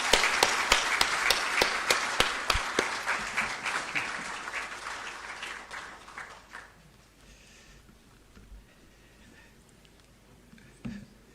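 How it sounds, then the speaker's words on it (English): An audience at the swearing-in ceremony for Ghana's incoming Chief Justice claps in a burst of applause that thins into scattered claps and fades to quiet, with a brief sound near the end. "Let's give him a round of applause."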